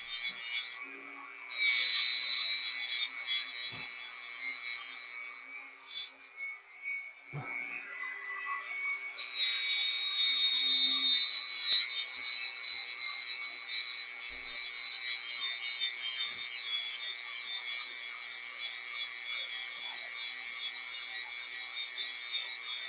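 A 400-grit bristle disk on a power tool works a surface with a high, continuous whine and scrubbing hiss that drops out briefly and then resumes.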